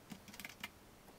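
Keys clatter on a computer keyboard in a quick burst of light, close clicks over about a second, with no voice present.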